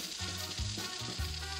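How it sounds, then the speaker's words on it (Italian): Soft sizzling and bubbling of chocolate pieces heating and melting in a glass flask, quiet and steady with faint low pulses and no talking. "Il cioccolato si dovrà sciogliere completamente!"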